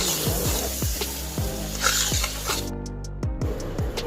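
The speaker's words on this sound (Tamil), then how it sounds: "மசாலா நல்லா வதங்கினதுக்கப்புறம் நம்ம ஊற வச்சிருந்த சிக்கனை உள்ளே போட்டுடலாம். உள்ளே போட்டு நல்லா ஒரு கிளறி விட்டுக்கோங்க." Marinated country chicken is stirred into masala in a hot pan for a village-style curry, giving rhythmic scraping strokes over a continuous sizzle, close up and with no talking.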